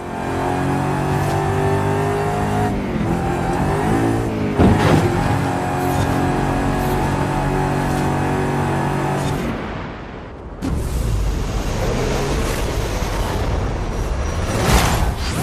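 A Hot Wheels car with red-stripe tyres and more than 1,400 brake horsepower revs hard in Forza Horizon 5, a loud, steady engine roar with rising and falling pitch, a sharp burst near the middle, then a brief dip and renewed acceleration.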